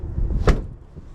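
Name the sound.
Dodge Ram truck door opening and closing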